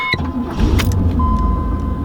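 A 1987 Pontiac Trans Am GTA starts up: a quick starter crank fires straight into a loud, rumbling idle that carries on close and steady, with a faint chime audible under it.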